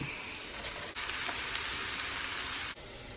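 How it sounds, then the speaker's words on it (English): Cabbage frying in a pan for a deer meat pierogi-style dish, a steady moderate sizzle with light crackles that runs throughout, briefly dipping twice as if stirred or interrupted, with no talking. "the last thing we're going to throw in is our cabbage"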